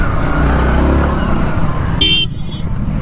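A motorcycle engine drones loud and close while weaving through road traffic, with a short car horn toot cutting through near the end.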